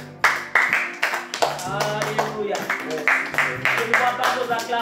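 A prayer congregation claps in sharp, rhythmic bursts while a voice speaks and acclaims over the clapping, the claps close and punchy and repeating steadily.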